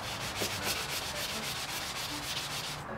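Wood being sanded by hand with quick, regular back-and-forth strokes, a close scratchy rubbing in steady rhythm with no talking.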